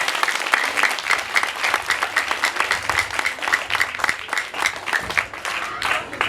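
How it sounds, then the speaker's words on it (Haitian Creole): An audience at a third anniversary event applauds, sustained dense clapping from a crowd filling the room, steady and fairly loud for several seconds with no speech over it. "on va dans le deuxième applaudissement pour vous"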